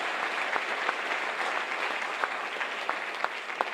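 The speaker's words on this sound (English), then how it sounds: "So please give them a round of applause." Steady applause from a high school spring band concert audience, a continuous wash of many hands clapping at even loudness with a few sharper individual claps standing out.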